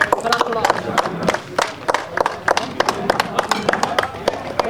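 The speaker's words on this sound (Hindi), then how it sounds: "एक बार फिर से जोरदार तालियां मुकेश सिंह जी के लिए" Audience applause at a cricket awards segment for bowler Mukesh Singh, with dense, uneven clapping sustained throughout, fairly close and steady with sharp individual claps standing out.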